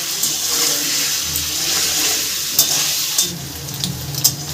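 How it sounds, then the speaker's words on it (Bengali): Paneer pieces frying lightly in hot oil, a continuous close sizzle with a few clinks and scrapes of stirring toward the end, no voices. "ওই একই তেলে আমি পনিরগুলোকে হালকা করে ভেজে নেব"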